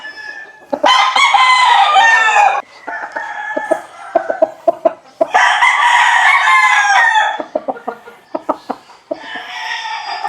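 Roosters crow loudly and repeatedly at a large poultry farm in San Rafael, Bulacan, long full calls with sharp clucks and short squawks between them, close by.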